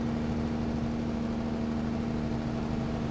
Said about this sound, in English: You can hear the big thunder of the exhausts as we head down the road with the exhaust brakes on.